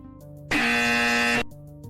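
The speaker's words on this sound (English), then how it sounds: "Forgot to press my incorrect buzzer button." A harsh, flat buzzer blares for about a second, loud and alone, with a faint tonal hum before and after.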